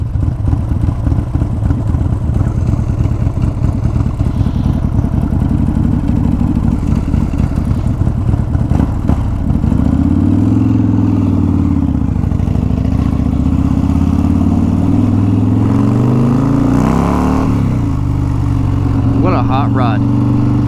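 A Harley-Davidson Fat Boy with a 140ci engine rumbles loudly and steadily, then revs up in first gear in a couple of sharp surges with a rising whine toward the end.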